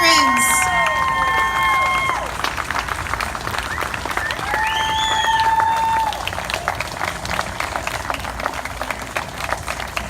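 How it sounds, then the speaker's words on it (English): Applause for veterans at a public honoring event: a large crowd claps loudly and continuously, with cheers and whistles mixed in and background chatter throughout. "Another round of applause for our amazing veterans."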